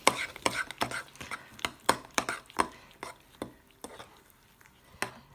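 A spoon mixes baking powder into banana bread batter in a bowl, giving a series of sharp, irregular clinks and scrapes close by, fading toward the end.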